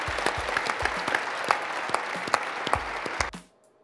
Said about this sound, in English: Can we have another round of applause for the First Lady